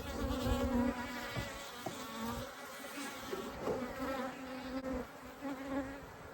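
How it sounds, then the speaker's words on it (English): Dense, buzzing swarm of bees hums continuously at close range around an open hive during inspection, with individual insects droning past amid the steady drone. "Those are stinging. Sweet bees. Sweet bees."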